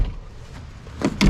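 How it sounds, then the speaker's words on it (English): A heavy door on a 1999-2007 Chevy Silverado pickup truck swinging with a low thud, then two close, loud bumps near the end as it opens and shuts. "It's a lot more stable, and the door opens and closes on its own."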